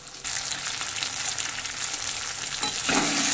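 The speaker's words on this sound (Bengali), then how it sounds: "দেখো এদিকে মশলাটা দিয়ে এটা নাড়াচ্ছি।" Katla fish pieces with spices, flat beans and potato fry in a pan while being stirred, producing a continuous loud sizzle and hiss with scraping movements.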